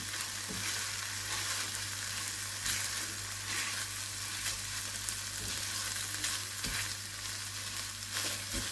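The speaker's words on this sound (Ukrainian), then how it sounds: "Загружаємо сюди наші макарони. Так. І перемішуємо." Cooked macaroni with pumpkin stirred in a frying pan, giving a constant bright sizzle with occasional scraping knocks of the utensil against the pan.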